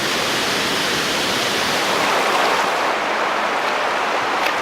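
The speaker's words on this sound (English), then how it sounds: "that waterfall is definitely worth a visit, definitely worth a swim" Steady roaring rush of a waterfall on Koh Kood island, Thailand, broadband and continuous, close and fairly loud with no voices.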